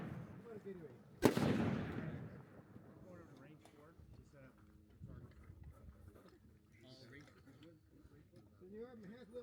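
At a 600-yard rifle shooting match, a single sharp rifle shot cracks out near the start and rings into a fading rumble, while people talk casually around it.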